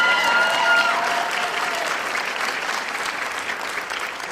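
A school board meeting audience applauds Lisa with strong, dense clapping that starts loud and tapers slightly, with a few faint voices under it.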